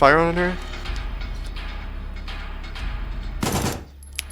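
Submachine gun fire in the survival horror video game Signalis, with a rapid burst of shots rattling loudly near the end after a stretch of dark, rumbling in-game ambience.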